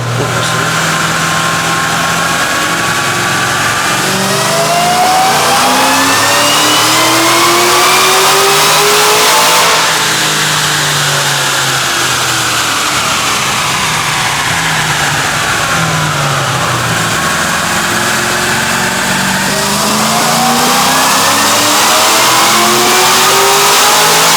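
A Cadillac CTS-V engine on a dyno, held in a loud sustained rev that climbs, drops back and climbs again through repeated pulls with no break.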